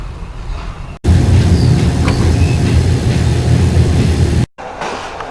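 An overnight passenger train bound for Skopje, Macedonia, rumbles loudly and steadily in a burst framed by quieter moments at either end, sounding close and enclosed like the inside of a carriage.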